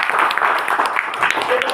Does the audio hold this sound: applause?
yes